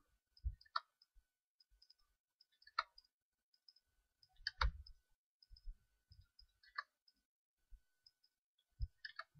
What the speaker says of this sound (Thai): การใส่ Delay ก็คือการกด Double Click เข้าไปนะครับ